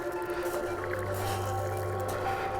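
A FLYTEC V007 RC fishing bait boat runs at full speed on water, giving a steady, continuous motor whir with water churning that holds level throughout, close by and without talk.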